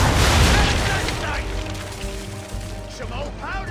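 Ship cannons firing in Assassin's Creed 3 gameplay, a heavy booming blast up front that rumbles and decays, with game voices and sound effects over the tail.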